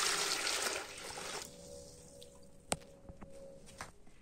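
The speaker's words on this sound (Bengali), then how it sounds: "আর এই গামলার মধ্যে আমি দিলাম প্রায় হাফ গামলার মতো গরম জল।" Hot water pours into a washing basin for soaking a blanket, a bright splashing rush up close for the first second and a half, then fading to scattered drips and small knocks.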